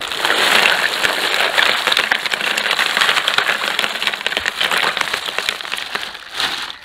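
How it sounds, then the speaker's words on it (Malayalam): Ice is scooped into a large batch of strawberry milkshake, giving a dense, continuous clatter of cubes tumbling and cracking, loud and close for the whole stretch. "ഇനി കുറച്ച് ഐസ് അങ്ങോട്ട് വാരി ഇട്ട് കൊടുക്കാം"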